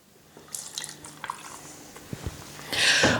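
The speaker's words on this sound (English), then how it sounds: "I'm now going to put in there our dried gin" Tanqueray 10 gin is poured into a cocktail mix. Faint drips and small liquid splashes come first, then a short, louder pouring splash at the end.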